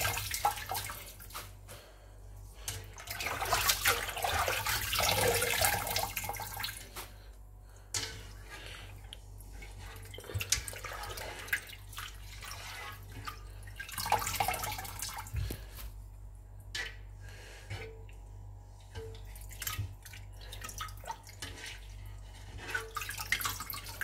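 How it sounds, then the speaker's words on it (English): Salt-washed Nigerian leafy vegetables lifted out of a basin of soaking water, with continuous splashing, dripping and sloshing close by for the whole stretch, rising and falling as the leaves are handled. "Let me bring it out from the water then."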